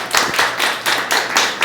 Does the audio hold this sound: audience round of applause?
yes